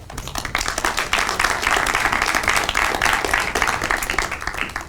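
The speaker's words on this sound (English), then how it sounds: "So a round of applause for Michael" Conference audience applauding to welcome a software talk speaker, steady dense clapping at moderate level throughout, no talk over it.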